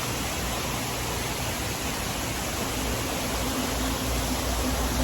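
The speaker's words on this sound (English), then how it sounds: "Look, this beautiful waterfall behind me." A waterfall roaring steadily at close range, a dense unbroken rush of falling water that stays loud and even throughout, with no voices over it.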